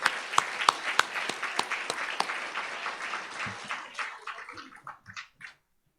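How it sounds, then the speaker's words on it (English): Audience at an awards luncheon clapping for honored physicians, a dense, steady round of applause with a few sharp nearby claps early, thinning out and fading to scattered claps before stopping. "give them a big round of applause"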